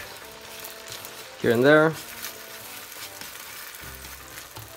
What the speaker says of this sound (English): So the pan is heated. I'm gonna put the eggs in.